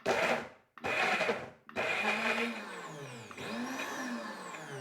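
A blender pulses cooked beetroot in three short bursts, each a loud grinding whir with brief pauses between, the motor pitch shifting as the beetroot chops.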